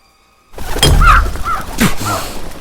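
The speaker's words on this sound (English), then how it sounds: "A crow hit the window." A crow slams into a window in an audio drama, an abrupt thump after silence followed by harsh cawing and fluttering cries, loud and close.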